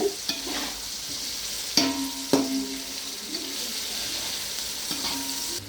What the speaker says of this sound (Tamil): இது கொஞ்சம் நல்லா ரோஸ்ட் ஆகிற வரைக்கும் நல்லா வதக்கினே இருங்க